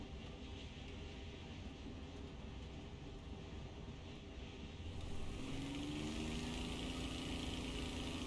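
In a flight-sim combat game, a steady aircraft engine drone fills the cockpit, then its pitch and tone shift partway through as the engine is cut, leaving a changed, lower whine that continues to the end.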